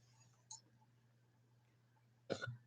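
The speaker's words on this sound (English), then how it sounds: "I guess I can't drink no Pepsi when I'm talking because I can't even talk without burping." A short burp after drinking Pepsi: a faint click early on, then one abrupt throaty burst near the end over a quiet, steady background hum.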